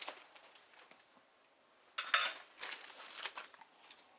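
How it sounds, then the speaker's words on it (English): A spoon scrapes and clinks while mixing gel food colouring into sugar, a faint, close run of gritty stirring with one sharp clink partway through, no talk. "clean the spoon off and kind of mix it around"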